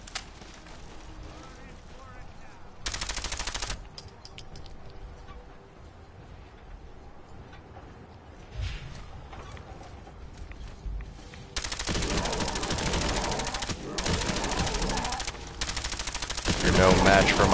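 Automatic fire with explosive rounds in Fallout 4 Far Harbor, aimed at a large fog crawler. A short loud burst sounds early, then long sustained rapid bursts follow near the end. Someone talks quietly in the gaps.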